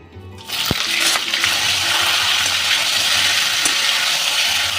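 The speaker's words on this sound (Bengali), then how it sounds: "ফুলকপিটা ভেজে নেব" Cauliflower florets fry in a little oil with a steady, close hiss and crackle that rises after a soft start and holds throughout.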